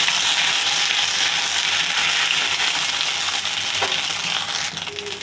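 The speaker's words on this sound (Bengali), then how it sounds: "আদা জিরে ভাজা হয়ে গেছে, এবার দিচ্ছি টমেটো।" Ginger and cumin paste fries in a pan, giving a steady, close sizzle that fades slightly toward the end, with no voices over it.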